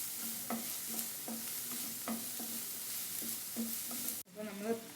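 Chopped onions being stir-fried in a pan for a Kerala thoran: steady close-up sizzle with a spatula scraping and tapping the pan in a regular rhythm, then a brief clatter near the end.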